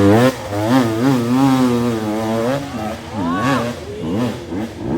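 Enduro motorcycle engine revving and shifting into second gear on a trail ride, a loud close rising and falling engine note with harmonic sweeps as gears change, continuous with brief dips between revs.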